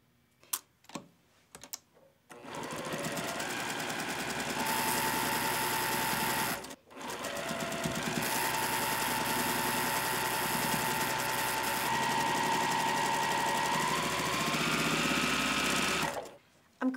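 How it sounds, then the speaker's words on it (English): A sewing machine stitches quilt block rows together for a Sister's Choice quilt, running in a fast steady whir after a few clicks, stopping briefly once, then resuming until a final halt. "Let's start sewing our rows together."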